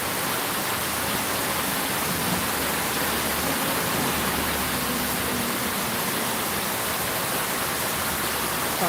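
Heavy rain pours in a steady, loud, unbroken hiss of dense drops, with no distinct thunderclap standing out and no voices.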